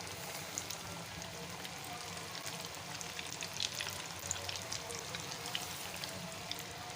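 Chicken pieces fry in oil over a medium-low flame, a steady close sizzle with fine crackling pops throughout, fairly quiet and uninterrupted by speech.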